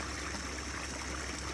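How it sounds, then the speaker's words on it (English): Overflow water from a flooded pond runs into a ditch, a faint, steady rushing and trickling flow that continues without a break. "So the pond's flowing pretty good."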